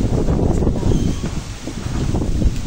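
Steady, heavy storm wind roars and buffets the microphone continuously, a dense low rumble with no pauses, during a power outage.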